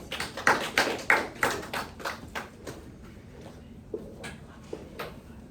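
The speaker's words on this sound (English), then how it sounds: "Everybody, give them a round of applause." Students in a classroom give a short round of applause, a burst of loud, close hand claps that thins within a couple of seconds into a few scattered claps and taps.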